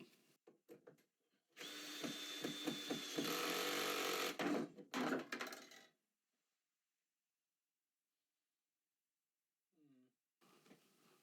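A power drill drives screws into wooden triangles and a wooden assembly on a cabinet, whirring for about four seconds between short bursts of handling clatter, then fading to quiet with a brief final sound.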